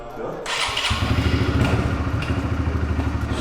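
A Honda CRF 125 motorcycle engine cranks and catches, then settles into a rapid, steady thumping idle close by after a burst of noise.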